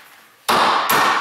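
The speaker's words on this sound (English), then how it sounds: "Grab a hammer, Josh." Two sharp, loud hammer blows ring out on metal during rear spring shackle repair on a Ford Explorer Sport Trac, the second strike following close behind the first with no talk.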